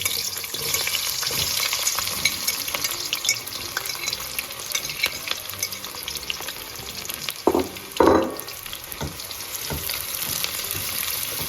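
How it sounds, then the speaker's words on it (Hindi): Onions frying in hot oil in a kadai for chicken keema mutter: a dense, steady sizzle close by, with occasional stirring scrapes and a couple of louder clatters near the end. "अब इसमें डालूंगी मैं ये प्याज।"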